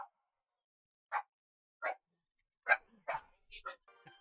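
Dogs bark indoors in a string of sharp, separate woofs, a few spaced apart and then several in quick succession, fairly close, with no other sound between them.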